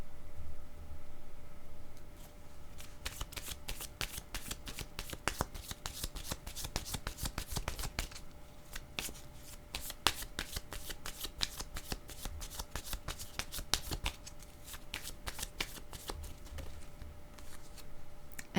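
A deck of cards is shuffled close up for a tarot-style reading, a long run of rapid, crisp riffling snaps and flicks in bursts, fairly quiet and without talk.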